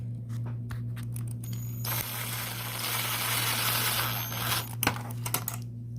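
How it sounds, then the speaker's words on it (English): A screw is driven into a fan blade by hand, giving a steady whirring rasp for a few seconds that ends in a couple of sharp clicks and taps, set over a constant low hum. "just need to put the one last screw right here"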